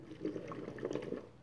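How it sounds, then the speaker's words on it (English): Water splashes and pours briefly, in a short, gentle burst of liquid sound, like a small waterfall nearby. The setting is a doll vacation scene with flowers and sand. "and best of all, waterfalls"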